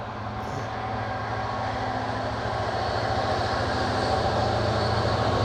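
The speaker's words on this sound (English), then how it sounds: "Big old freight liner full of goods" A freight train rolls steadily past, a Freightliner carrying goods in 25-litre drums, with a continuous loud rumble and rhythmic clatter of wagons on the rails beside a canal in Staffordshire.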